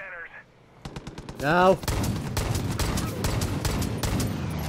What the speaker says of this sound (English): I'm hitting him with the hand cannon.